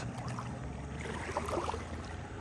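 A Simon Fletcher Naiad boat backing out on Lake Champlain, a steady low motor rumble with water washing and churning close by, continuous and fairly even throughout with no talk.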